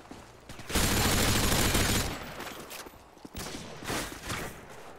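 Automatic ACR rifle fire in the video game Modern Warfare 2: a sustained loud burst of rapid shots, followed by shorter, quieter bursts and scattered shots.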